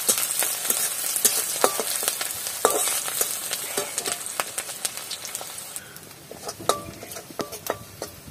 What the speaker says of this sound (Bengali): এবার আমি ফুলটা দিয়ে দিচ্ছি